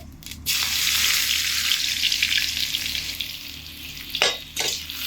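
Garlic and whole fennel seeds fry in hot oil for ghugni, a loud close crackling sizzle with a sharp onset, steady hiss throughout and a couple of brief stirring clatters toward the end, no talking.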